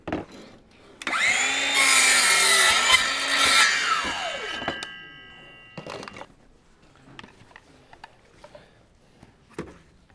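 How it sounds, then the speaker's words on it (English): A power saw cuts through an Evolve Stone manufactured stone veneer piece, a loud whining burst of about four seconds that winds down, followed by quieter handling knocks and clatter. "I can actually cut this down and we can put it up."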